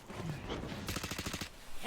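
A rapid burst of automatic gunfire rattles out in a professional esports video game match, a short, fast string of shots over faint background game noise.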